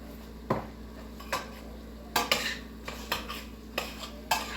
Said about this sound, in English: And stir this for about 30 seconds. Let the spices distribute evenly.